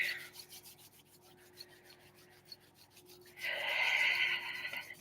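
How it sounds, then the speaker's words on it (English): Palms of the hands rubbing together during a morning meditation session, soft swishing friction strokes that build into a louder, sustained rasp near the end, close and alone. "go ahead and rub the palms together"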